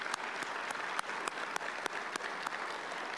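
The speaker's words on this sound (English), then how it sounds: "Let's give them a round of applause, too" Audience applause at a university State of the University address, a fairly quiet, even patter of many hands from a seated crowd with a few sharper claps standing out now and then, continuous throughout with no speech.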